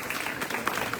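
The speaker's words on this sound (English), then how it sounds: "let's give them a round of applause also" Brief burst of dense audience applause at a community forum, a continuous wash of many hands clapping at moderate level.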